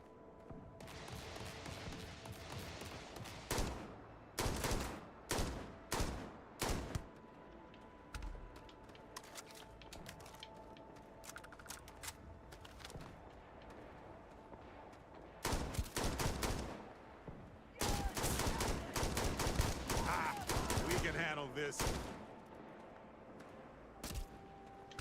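Gunfire in Starfield rattles in repeated clustered bursts, some rapid and sustained like automatic fire, separated by quieter ambient stretches; fairly loud and close, with no talk over it.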